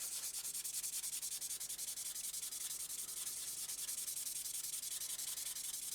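Hand sanding of car bodywork during preparation before primer, a steady continuous abrasive rubbing hiss held at even loudness throughout, close and without any voices.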